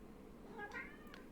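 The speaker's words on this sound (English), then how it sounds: "kitty, I'll pet you in just a second" A pet cat meows nearby, giving one short, faint call and then a brief second chirp over a low background hum.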